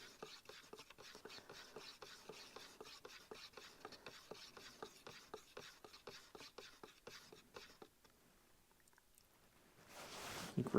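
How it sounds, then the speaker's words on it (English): Epoxy primer paint is stirred in a can for a Chevy C10 Stepside restoration, a steady run of close, soft scraping and rubbing strokes that fades out near the end before a brief louder burst. "I'm stirring. Stirring, stirring, stirring. Okay, it's starting to get stirred."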